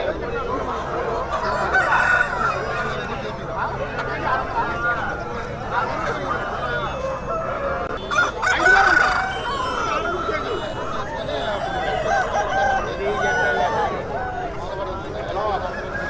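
Roosters crow several times and chickens cluck amid the busy chatter of a village country-chicken market at Nallapadu, with voices talking throughout and background crowd noise.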